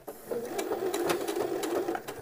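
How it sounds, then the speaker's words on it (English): A short, steady burst of machine stitching runs along a seam of a McCall's 6972 men's shirt, close and moderately loud, with a rapid mechanical patter. "to the hem, you want to do a line of stitching"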